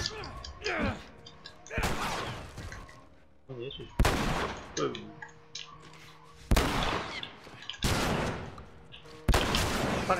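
Loud, close gunshots from The Last of Us video game, including a shotgun, fire in sharp booming blasts a couple of seconds apart, with game voices and noise between shots.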